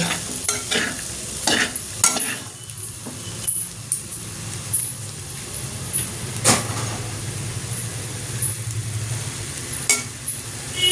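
Raw banana fry is stir-fried in a pan, with an intermittent close sizzle and irregular metallic clinks and scrapes of the spatula against the pan, some sharp and loud.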